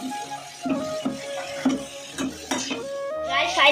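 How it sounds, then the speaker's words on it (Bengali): Tomato and onion stir-fried in a pan, with a spoon scraping and clinking against the metal in repeated strokes over a soft sizzle. "ফাইনালি এখন টমেটোর পেঁয়াজ ঢালে দিয়েছে"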